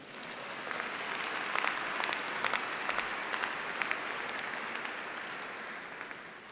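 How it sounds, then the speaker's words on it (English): Audience applause welcoming a speaker at a university welcome day session, steady dense clapping sustained across the clip with a few sharper claps standing out, no voices over it. "Please welcome him with a warm applause."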